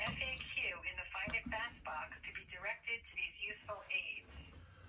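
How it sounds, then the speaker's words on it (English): On-hold audio plays through a telephone line during a call to the Taco company, thin, band-limited music and voice running continuously throughout. "I'm on the phone with, on hold with Teiko"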